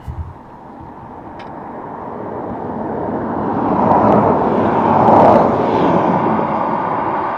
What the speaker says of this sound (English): Aer Lingus A330 Seattle